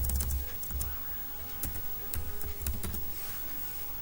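Typing on a computer keyboard, entering a short word in uppercase, with a few quick clustered keystrokes and brief pauses over a faint background hum.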